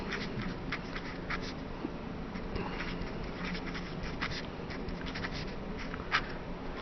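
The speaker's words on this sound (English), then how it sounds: "I'm going to have to write this down here at the bottom" A pen writing on paper during an algebra lesson, with soft continuous scratching and short strokes close by, steady throughout without any talking.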